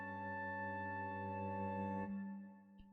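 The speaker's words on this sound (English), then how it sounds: "on this chord in the clarinets, where it has the A natural" A sustained tense clarinet chord with an A natural, held steady and fairly quiet for about two seconds before it fades, followed by a faint click, no voices.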